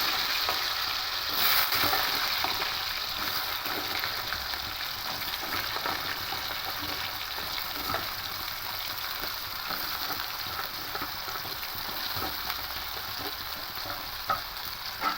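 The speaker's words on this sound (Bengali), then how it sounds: "এবার এখানে কেটে রাখা আলুর টুকরোগুলো দিয়ে দেবো" Cut potato pieces fry in oil with panch phoron, a steady close hiss and crackle running throughout, punctuated by frequent spoon scrapes as they are stirred, with no talking.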